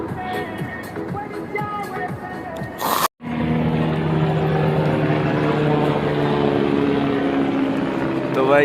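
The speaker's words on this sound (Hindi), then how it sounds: "यहाँ हेलीकॉप्टर हर 10 मिनट के अंदर अंदर है।" Helicopter flying in the Kedarnath mountains: a steady, loud rotor and engine drone fills the second half after a brief gap, with voices and ambient noise earlier.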